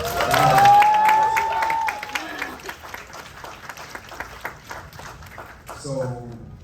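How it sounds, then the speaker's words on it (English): An audience at a BlerDCon 2024 convention panel breaks into loud applause with a few whoops, then the clapping thins to scattered claps before a voice begins speaking at the end. "can we give an awesome round of applause for our panel so far?"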